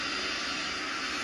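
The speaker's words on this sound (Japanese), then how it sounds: "それは離陸する際にジェットエンジンが起こす爆風。" A jet aircraft's engines roar at an airport during takeoff, a loud, sustained broadband rush with no break.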